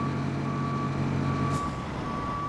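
A pickup truck in the video game Roadcraft sounds a steady series of reversing beeps over a continuous engine drone, loud and close, with no voices.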